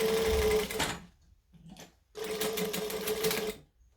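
A sewing machine quilts through fabric in two steady mechanical runs, loud and close, separated by a near-silent pause with a brief whir; no speech.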